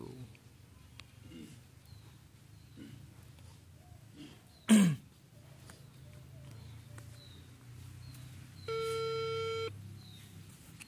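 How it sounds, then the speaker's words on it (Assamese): A phone's ringback tone plays as a steady repeating electronic pulse near the end, preceded by faint room noise, a sharp throat-clearing burst and light background sounds. "ফোনটো লগাই চাওঁ বাৰু ৰিচিভ কৰে নে নকৰে"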